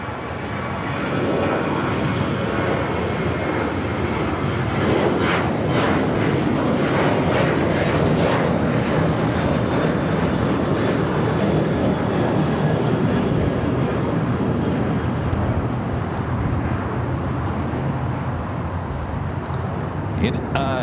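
An American Airlines airliner, flight 71, rolls for takeoff on runway 25 right at LAX, its engines a loud, sustained roar that swells and holds, with radio chatter and talk over it.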